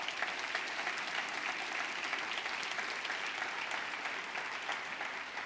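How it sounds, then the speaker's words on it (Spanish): Steady, moderately distant audience applause fills a church service, a continuous even wash of clapping from a congregation with no talk over it. "Denle un aplauso al Señor por lo menos."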